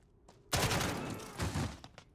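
A machine gun nest opens fire in Call of Duty: Modern Warfare, a sudden loud burst of rapid shots that sustains for over a second, then tails off into scattered quieter reports.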